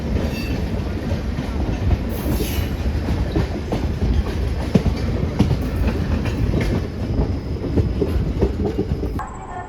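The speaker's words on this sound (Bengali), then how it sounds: "এই ঢুকছে হাওড়া নিউ দিল্লি রাজধানী এক্সপ্রেস ভায়া পাটনা 12305" The Howrah–New Delhi Rajdhani Express, train 12305 via Patna, rolls past at close range with a loud, continuous rumble and steady clickety-clack of wheels over rail joints, plus a brief high squeal.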